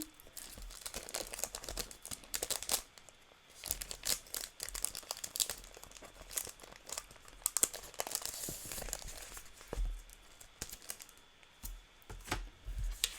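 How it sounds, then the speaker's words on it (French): Adhesive masking paper is handled for a paper card craft, with close, irregular crinkling and rustling bursts, some sharper tearing-like crackles, and quiet pauses between. "Alors, commençons par notre papier de masquage."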